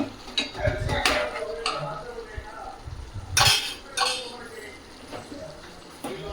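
Chicken gravy curry stirred in a pot, with intermittent scraping and metallic clinks of a spoon against the pot, moderately loud and close, alongside other kitchen clatter.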